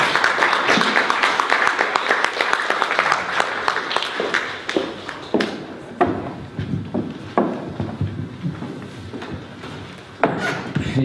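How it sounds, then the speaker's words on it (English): A small audience at a talk on Irish trans history claps as the next speaker comes up, with dense applause at first that thins into scattered claps and then fades, plus a single sharp clap near the end. "Can we give her a round of applause?"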